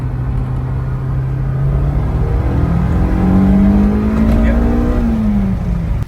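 A Honda S2000 engine revs hard as VTEC engages, its tone climbing steadily to a loud, rising wail inside the car, with a voice speaking over it.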